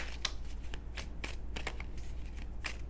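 Tarot cards riffled and shuffled by hand at close range, a run of quick papery flutters and soft slaps in irregular bursts, with no voice.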